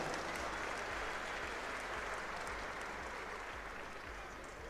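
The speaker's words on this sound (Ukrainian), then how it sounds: "можна також привітати аплодисментами" An audience at a Ukrainian freestyle wrestling championship final claps in sustained, even applause, a dense rain of hand claps that stays steady and fairly soft throughout.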